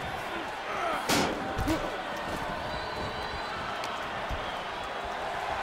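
A wrestler is thrown into the ring and lands on the mat with a single heavy slam, followed by a smaller thud, set against a steady roaring arena crowd and a commentator's voice.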